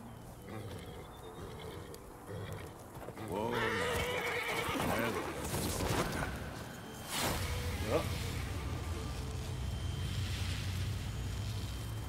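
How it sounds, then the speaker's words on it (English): Horse neighing in Witcher 3, a loud whinny around four to seven seconds with some clopping, set against steady game ambience and a voice speaking. "Horsey."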